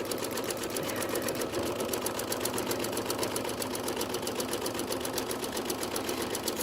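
A sewing machine runs steadily throughout while quilting and thread work are done on three fabric layers, its rapid needle stitching forming a continuous, even mechanical chatter, close and loud, with no talking.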